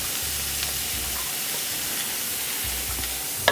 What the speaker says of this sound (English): And now I'm gonna add my onions.